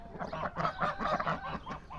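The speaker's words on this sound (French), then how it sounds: "Ici il y a l'oie frisée" A frizzled goose honking on a poultry farm, a quick series of nasal honks close by.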